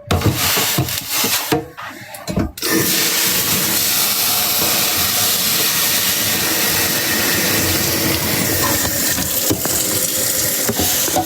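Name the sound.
washing dishes with running water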